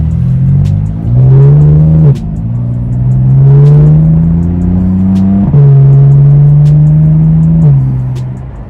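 Car engine at a car meet revving loudly and close, with repeated rises in pitch, gear-shift drops around the second and fifth seconds, and a steady throaty drone between pulls.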